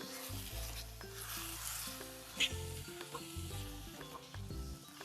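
Ground tomato masala for chicken keema curry sizzles quietly in a pan as a spoon stirs and scrapes through it in uneven strokes, with no talking.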